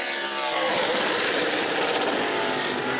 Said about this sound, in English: Brad May out on track with his Super Late, the Arcade Works Incorporated Bobby Sears Racing number 9